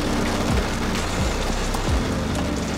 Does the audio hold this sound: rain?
yes